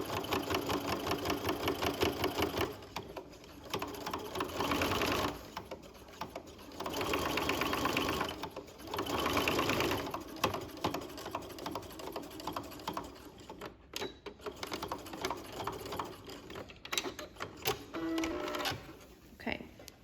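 A sewing machine runs in bursts of stitching as it sews an understitch along a neck facing, the motor whirring loud and near in several runs separated by brief pauses, with some quieter handling noise later.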